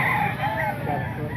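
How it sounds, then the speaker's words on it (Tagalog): Chickens for sale at the Grotto market cluck and call in a short burst, moderately near, over a murmur of market noise and background voices. "Manok dito sa grotto."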